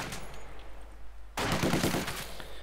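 Infantry rifle and machine-gun fire in the strategy game Company of Heroes 2 starts after a quieter stretch of battle ambience and continues as a dense, rattling burst at moderate volume.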